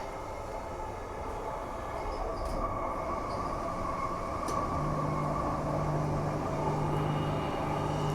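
A Transperth A-series electric suburban train rolls steadily from Perth Stadium and heads into an underground tunnel, a continuous close rumble with wheel noise and a rising motor whine near the end.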